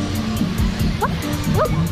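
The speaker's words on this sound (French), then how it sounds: "Il y a des chiens." Dogs on a beach in the Philippines give a few short, high yips and barks over steady wind and surf noise, with a voice talking nearby.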